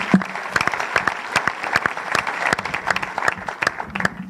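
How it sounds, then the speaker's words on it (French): A large audience applauds steadily and densely throughout, with a faint voice briefly underneath, at a festival announcement of the 2026 bullfighting lineup for the Madeleine fiesta in Mont-de-Marsan. "on peut l'applaudir"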